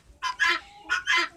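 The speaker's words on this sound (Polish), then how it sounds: "Dzisiaj chciałbym wam zaprezentować moją hodowlę kur." Laying hens and ornamental poultry cluck close by in two short paired bursts, clear and fairly loud against a quiet background.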